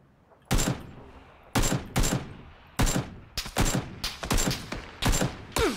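Gunfire in PUBG comes as a series of sharp, loud shots, single cracks and quick bursts of several rounds, spaced irregularly over a few seconds against a quiet background.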